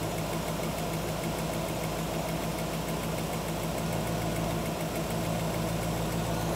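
A 1963 Chevrolet Impala engine with its idle screws leaned out idles steadily up close, a continuous, even mechanical rumble with a slight ticking texture and no talk over it.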